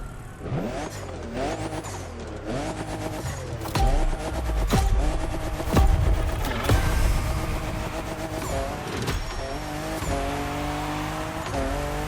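A 2021 Toyota Super Drift Edition drifting in the video game The Crew Motorfest, engine revving up and down through repeated gear changes while tires squeal in long skids, loud and close for the whole stretch.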